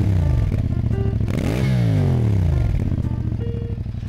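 A CFMOTO 450NK motorcycle with stock exhaust idles and then revs up and back down, with a loud, throbbing exhaust note close by.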